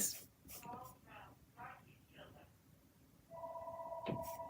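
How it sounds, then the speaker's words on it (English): Phone ringing early in the morning, a steady electronic ring tone starting partway through, close and clear, after some soft speech. "There goes my phone early this morning."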